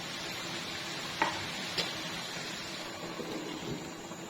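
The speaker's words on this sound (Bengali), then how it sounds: "আমি আবারও ঢাকনা উঠিয়ে নেড়ে দিচ্ছি" Soft, steady sizzling of mixed vegetables cooking in a pan, stirred now and then, with a couple of faint utensil taps near the start.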